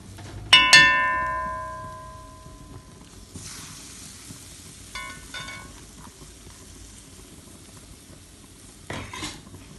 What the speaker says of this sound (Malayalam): ഇതിനി ഇതൊന്ന് ചിക്കി ഇളക്കി കൊടുക്കണം, കാരണം ഇതൊന്ന് മുട്ടയൊന്ന് വേവണമല്ലോ